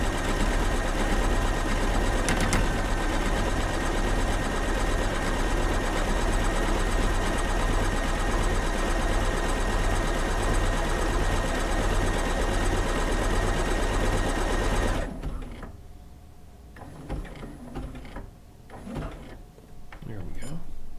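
A sewing machine stitching quilt panels together runs in a loud, steady rapid whir for about fifteen seconds, then stops, leaving faint handling noises.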